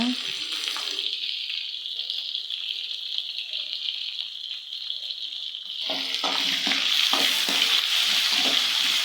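Tomato and onion sauté in a pan with a steady sizzle, growing louder and busier after the midpoint with scraping stirs and a spattering hiss.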